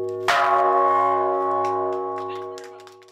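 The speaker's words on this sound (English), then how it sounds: "11 ministers, UN officials, and visionary leaders ring the bell to awaken people's conscience" At the Stockholm Plus 50 conference, a single large bell is struck once, ringing out with a bright metallic clang that hums on and slowly fades over a few seconds, with faint room murmur behind.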